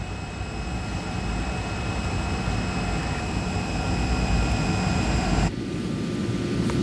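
Airliner jet engines of a United Airlines Boeing 747 at night, a steady loud cabin roar with constant high whine, continuing without break and shifting in tone near the end.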